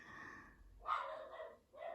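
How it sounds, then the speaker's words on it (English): A pet dog at home barks in a couple of short, sharp bursts with a snorting breath between them, fairly close and alone without any talking. "Sorry, my dog has gone crazy again."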